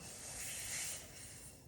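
Sitali cooling breath, air drawn in through a curled tongue as a soft, steady hiss lasting under two seconds, close and quiet with no talking.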